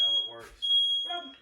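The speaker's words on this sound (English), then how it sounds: "we know our smoke alarm works because it just went off." A shrill, high-pitched smoke alarm beep sounds in short bursts while people talk nearby.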